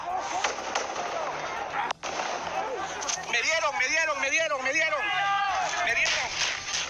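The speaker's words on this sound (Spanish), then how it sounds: "Oigan los disparos." Sharp gunshots crack out amid a street protest, fired from a bus toward demonstrators, several scattered reports over a noisy crowd with shouting and agitated voices throughout.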